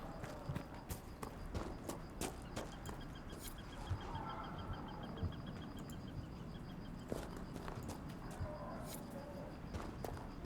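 Steady clip-clop of horse hooves at a walking rhythm in the video game Dragon Age: Inquisition, with faint bird chirps and ambient outdoor sounds in the background.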